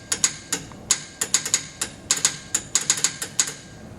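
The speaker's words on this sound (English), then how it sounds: "You use a key to send it and a keyer to make the sound." Telegraph keyer clicking out a message: sharp, close, dry clicks in an irregular rhythm of short and longer gaps, about twenty over four seconds, with no talking.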